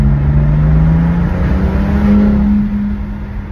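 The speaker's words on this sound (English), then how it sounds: "you can definitely hear the spool a little better" A BMW S55 engine accelerating in third gear with a high-quality air filter, a steady loud drone rising gently in pitch with turbo whoosh layered above, easing off near the end.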